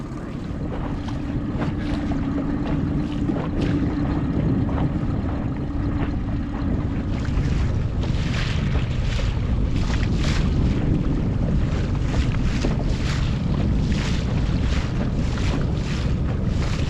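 A dinghy motors across Long Bay on Georgian Bay, its low engine rumble and water wash nearly buried under loud, constant wind buffeting the microphone, with no voices.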